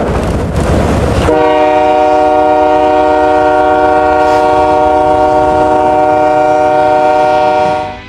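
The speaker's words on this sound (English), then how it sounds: "MBTA snowplow train." The MBTA snowplow train of the Massachusetts Bay Transportation Authority sounds a loud, sustained multi-tone horn. A brief rumble of rail noise comes first, then the chord holds steady for several seconds close by, with no voices.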